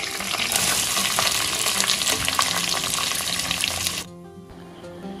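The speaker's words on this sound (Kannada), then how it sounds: "ನೀರುಳ್ಳಿ ಚೆನ್ನಾಗಿ ಫ್ರೈ ಆಗಿದೆ." Sliced onions fry in hot coconut oil with curry leaves, a loud, steady crackling sizzle close by that cuts off sharply near the end, leaving a quieter hiss.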